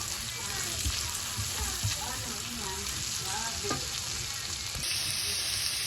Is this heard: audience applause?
no